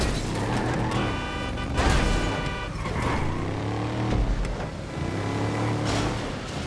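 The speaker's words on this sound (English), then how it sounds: "I heard a big truck coming." A large truck roars closer in a video game, with loud layered engine tones and horn-like blasts repeating over several seconds against a busy, continuous mix.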